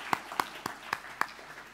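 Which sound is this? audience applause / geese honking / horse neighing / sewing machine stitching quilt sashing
audience applause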